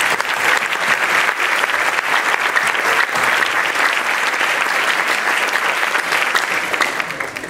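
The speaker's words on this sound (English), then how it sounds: "Let's give them one last round of applause." Loud, dense crowd applause at a school sports awards ceremony, continuous and energetic for several seconds before tapering off at the end.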